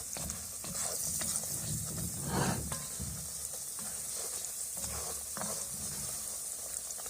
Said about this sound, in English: I'm going to stir up this roux.